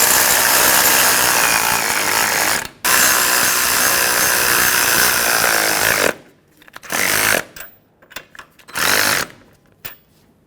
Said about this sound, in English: These new mounting nuts are 15 millimeter in size, so use a socket or wrench that fits and tighten them up.